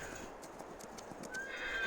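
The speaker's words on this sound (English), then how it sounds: "It's hard to turn these horses once you get going." Horse hooves clip-clop at a riding pace in Farming Simulator 22, sharp repeated strikes near and clear, with a brief neigh and a thin tonal whine toward the end.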